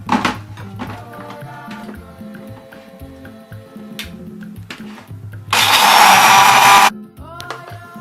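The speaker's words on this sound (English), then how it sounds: "the millet and the cloves grind together in my food processor." A food processor grinds soaked millet and cloves in a loud, steady whir for a little over a second, between quieter clinks, taps and handling noises.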